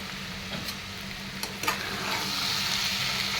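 Ivy gourd (dondakaya) fries in a pan with salt, a steady close sizzle and hiss with a couple of short stirring scrapes in the middle, and no one talking.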